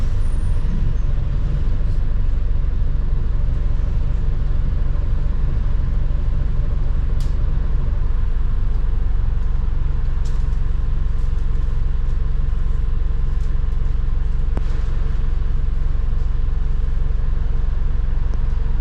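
A British Rail Class 387 train running alongside on the line between Hitchin and King's Lynn, heard as a loud, continuous low rumble and roar with faint higher squeals and a few brief clicks, steady throughout with no talk.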